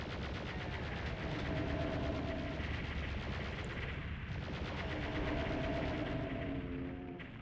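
Chaingunner enemy firing in Doom 2 on the PlayStation 1, a loud unbroken stream of rapid gunshots lasting the whole stretch, with no talk over it.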